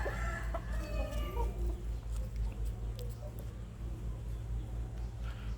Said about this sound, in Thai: นี่นี่อีกตัวกำลังมากุ๊กกุ๊กกุ๊กกุ๊กกุ๊กกุ๊กครับ